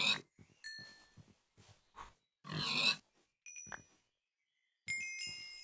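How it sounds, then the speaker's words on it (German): A pig in Minecraft grunts and oinks in several short bursts, a few louder squeals mixed with soft grunts and interspersed with bright game dings and chimes; fairly quiet overall. "So, Schweinchen."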